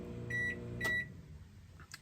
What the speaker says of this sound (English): it's not working and the microwave just turned on